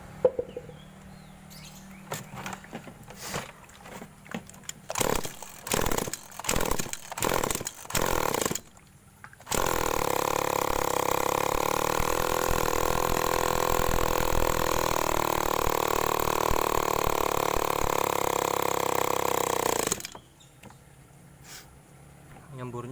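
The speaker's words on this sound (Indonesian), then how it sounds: "Kita hidupkan tanpa knalpot ya." A small agricultural sprayer engine roars loudly and steadily for about ten seconds, harsh and running without its muffler, after a run of sputtering pulls and bursts.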